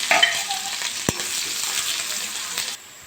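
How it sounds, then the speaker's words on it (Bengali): Green chillies and onions hit hot white oil in a wok with a loud, close hiss that settles into a steady crackling sizzle, with one sharp knock partway through, then drops away abruptly. "তেলটা গরম হয়ে গেছে, আমি কাঁচা লঙ্কাটা দিয়ে দেবো, পেঁয়াজটা দিয়ে দেবো"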